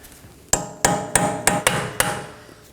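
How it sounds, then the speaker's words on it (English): Six sharp metallic hammer blows strike a punch against the front axle of a 2018-2024 Chevrolet Equinox, in a steady rhythm, each ringing briefly, loud and close with no talking. "Now I'm going to take a punch and hammer to verify the axle moves"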